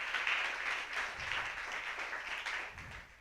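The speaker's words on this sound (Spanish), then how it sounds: "denle un aplauso al Señor" Church congregation applauding together during a sermon, a steady wash of clapping held at an even level for a few seconds.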